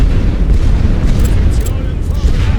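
Continuous low rumble of distant artillery bombardment explosions on a First World War Western Front battlefield in a strategy game, dense and loud throughout with faint voices mixed in.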